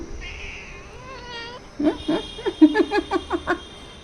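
A young kitten meows in a house, with a thin drawn-out cry and then a quick series of short, close meows at a steady pace.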